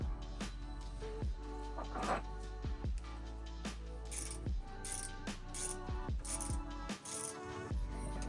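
A ratchet loosens an 18mm bolt and nut on a van's rear suspension in repeated quick clicking bursts, with short pauses between strokes and an occasional metallic clink, fairly close and with no talk.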